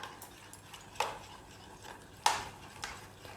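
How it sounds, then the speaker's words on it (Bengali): A spoon stirs sugar paste into ripe bael fruit pulp, with soft scraping and a couple of sharper clinks against the bowl, close and alone. "এবার আমি ভালো করে নেড়ে নেব যাতে চিনিটা বেলের সঙ্গে মিশে যায়"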